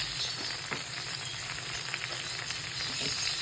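Black pepper sizzling in melted butter in a pan, a steady, even frying hiss that fills the whole stretch with faint crackles and no talking.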